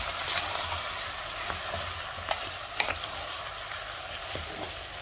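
Vegetables for soup fry in a pot with a steady close sizzle, broken by a few soft clicks and scrapes of stirring.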